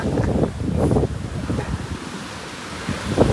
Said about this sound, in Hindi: पानी की लहरें बहुत तेज होती जा रही है।